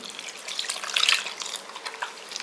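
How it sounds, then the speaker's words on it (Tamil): A little water poured into a mixer jar while making paruthi paal, a soft, close splashing trickle that swells briefly in the middle and then thins to light drips. "கொஞ்சம் தண்ணி ஊற்றி"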